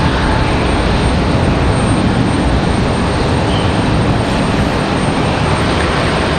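An Alaska Airlines jet airliner moves along at Raleigh-Durham International Airport, heading out toward Seattle. Its engines make a loud, close, unbroken broadband roar that holds steady throughout, with no voices over it.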